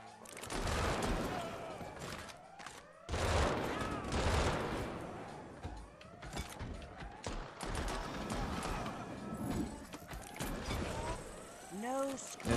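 Bursts of gunshots in the VR shooter Action Hero, sharp shots scattered irregularly across the span with mechanical clatter between them, while a person talks over much of the action.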